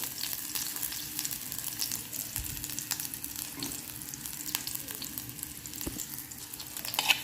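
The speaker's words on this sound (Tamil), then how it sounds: "ஆயில் கொஞ்சம் ஹீட் ஆகக்குள்ள நான் இதுக்கு ஆனியன் ஆட் பண்ணிக்கிறேன்" Onion frying in hot oil for vada curry gives off a soft, continuous sizzle, fairly quiet and even, with occasional light clicks and scrapes as the pan is tended.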